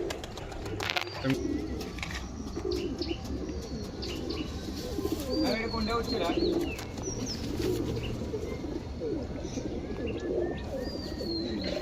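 Pigeons kept by a Howrah pigeon breeder coo softly and repeatedly in the background, mixed with scattered chirps and a person talking nearby.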